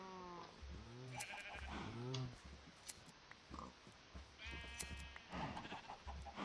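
Blocky sheep in the Minecraft Agrarian Skies modpack bleat repeatedly, several wavering calls in quick succession, some near and loud, others fainter, with a voice talking between them.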